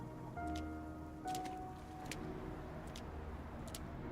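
Rain falls in the video game Love and Deepspace, a steady soft patter with scattered brighter droplet hits over low ambient music tones.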